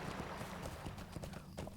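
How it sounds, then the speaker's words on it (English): Horse hooves clip-clopping as a character rides in a video game, a quiet, quick run of hoofbeats heard alone. "I should be riding along since this is why I have a horse and why I have a speed buff"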